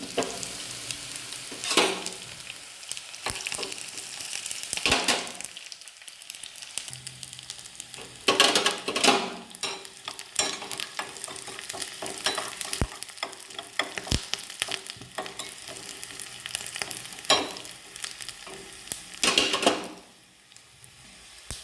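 Onions fry in a pan for a banana-peel thoran, giving a soft, crackly sizzle broken by clattering stirs and scraping spoon strokes at irregular intervals, close and fairly quiet, with no talking.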